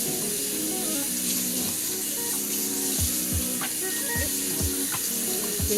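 Chicken being washed under running tap water, a steady rushing stream with intermittent splashes and low knocks as the meat is handled in the sink.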